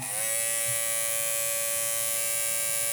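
Cordless Babyliss FXOne electric hair clippers hum steadily at close range, a bright constant buzz that starts up and holds without a break.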